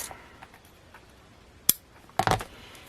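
Scissors snip through closure elastic for a planner, two sharp clipped cuts standing out against a quiet room, the second slightly longer and more ragged.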